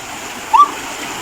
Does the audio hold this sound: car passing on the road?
no